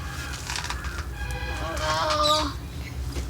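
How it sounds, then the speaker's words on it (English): A bird caught in a homemade trap, apparently a chicken, gives several wavering clucks and squawks over steady background noise, fairly close. "Think this is a bird once more."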